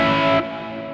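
A single sustained electric guitar chord rings out, washed in reverb, delay and chorus, then drops in level and decays into a smeared, shimmering tail.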